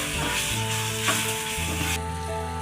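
Garlic and curry leaves fry in oil in a pan for drumstick pickle, a bright continuous sizzle with stirring clinks and a steady tonal hum in the background.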